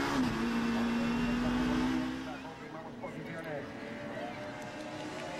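WTCC touring cars, including BMWs, race on a circuit, their engines droning and whining past at a distance beneath continuous commentary, with one sustained engine tone fading after a couple of seconds.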